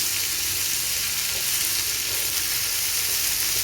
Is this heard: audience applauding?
no